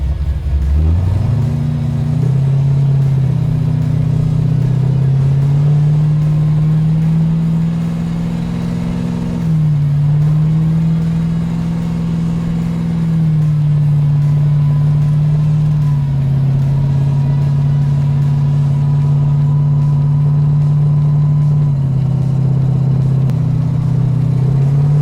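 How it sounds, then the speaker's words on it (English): A 1971 Chevrolet Camaro restomod's engine runs loud and close, rising from a start into a steady deep drone with a few throttle blips and brief revs throughout. "Wow, this engine is fun."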